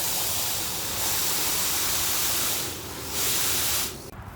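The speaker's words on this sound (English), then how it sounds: "you just want to take your hose and just spray it down into the hole" A garden hose sprays water down into a hole in the garden soil, a loud close hissing rush that steadies, briefly eases, and cuts off near the end.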